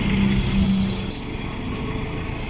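Engine of a 2014 Hyundai Accent with a no-crank fault running after a start, a loud, steady close-up rumble and hum that softens slightly after the first second, no talking.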